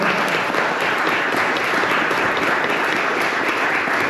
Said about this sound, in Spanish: un fuerte aplauso primero para el compañero